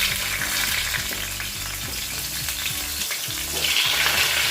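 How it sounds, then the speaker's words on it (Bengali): A snakehead fish head fries in hot oil, giving a loud, close, continuous sizzle and crackle, with faint utensil stirring beneath and no talking. "প্রথমেই শোল মাছের মাথাটাকে ভেজে নিচ্ছি।"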